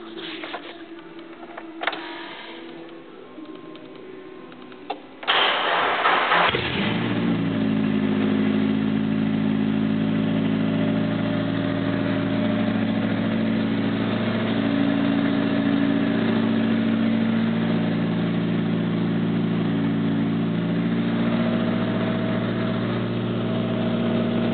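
An old Suzuki car stands after twelve months of disuse; after a few faint clicks and a brief crank, the engine catches and settles into a steady, loud, even idle that runs without a break.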